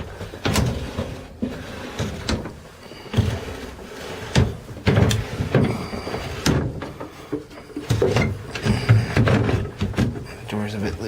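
A loose wooden cabinet door aboard a tri-cabin motor yacht is opened and shut repeatedly, giving a run of close knocks, rattles and thuds with brief pauses between them.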